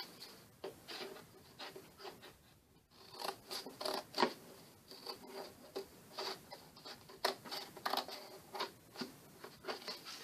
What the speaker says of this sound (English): I do have really sharp scissors here, but it's still kind of hard to cut this board.